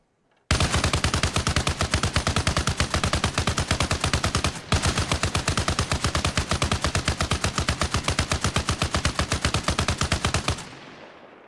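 An M60 mounted turret machine gun fires in ARMA Reforger, a long, loud, close stream of rapid rhythmic shots with one brief break partway through, ending in a short fading echo.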